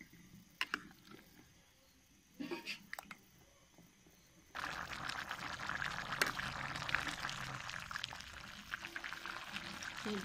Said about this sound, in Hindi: ये पानी में उबाल आ गया है